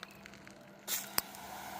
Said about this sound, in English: I'm just hoping to just give them some water